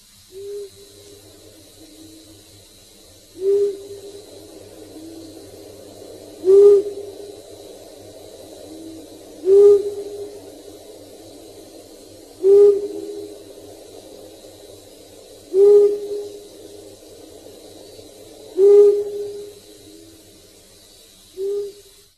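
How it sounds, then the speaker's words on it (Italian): A long-eared owl gives a series of seven deep, soft hoots spaced roughly three seconds apart, each one short and clear over a quiet, steady background. "Gufo comune."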